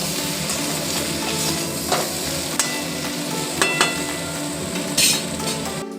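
Vegetables for Bengali shukto, seasoned with salt and turmeric, sizzle steadily in a kadai while a spatula stirs them, with occasional sharp clinks of metal against the pan and no talking.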